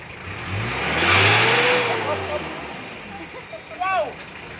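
A car engine revs up to about 3,500 RPM during a smoke check after an anti-smoke oil additive, a loud rising and falling roar, with voices talking nearby and a brief burst of chatter near the end.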